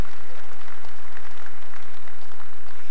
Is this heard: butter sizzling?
no